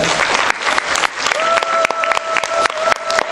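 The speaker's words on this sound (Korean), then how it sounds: "네, 큰 박수 부탁드리겠습니다." An audience applauds a lecturer at a Korean speaking competition with dense, continuous clapping that fills the room, while a faint tone and some brief voices sit beneath it.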